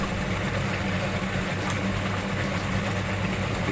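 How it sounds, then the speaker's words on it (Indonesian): A washing machine's spin-dryer drum running again after its capacitor was replaced gives a steady, loud, continuous whirring hum with no pauses. "Dengan pergantian kapasitor ini, mesin cuci kembali berputar lagi."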